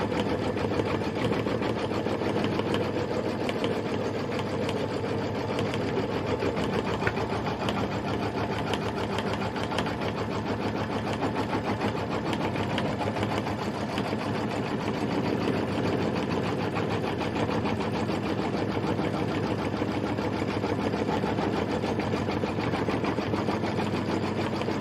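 An embroidery machine stitches with red thread for a Kimberbell Cup of Cheer sew-along project, giving a fast, steady mechanical whir and rapid needle chatter that runs unbroken and close for the full length, with no talk.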